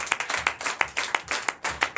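A church congregation clapping in praise of Jesus during a Sunday worship service, sharp, close, rhythmic hand claps in a brisk regular beat with loose accents.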